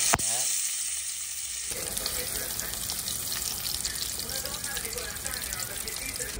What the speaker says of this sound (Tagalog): Fried lang natin ang ating German sausage.